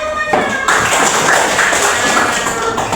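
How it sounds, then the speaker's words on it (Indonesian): A classroom of students claps for the group Garuda, a dense, steady patter of many hands close by that fills about three seconds. "tepuk tangan untuk kelompok Garuda"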